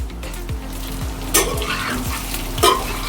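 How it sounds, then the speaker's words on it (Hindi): Food roasting in a hot pan, a close, steady sizzle and crackle with a few louder scraping stirs breaking through. "अब इसको भूना जाएगा दोस्तों"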